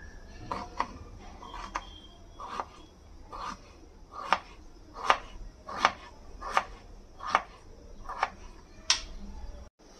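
A knife chops through potatoes on a cutting board in a steady series of about a dozen crisp, evenly spaced knocks, close and fairly quiet, with no talking.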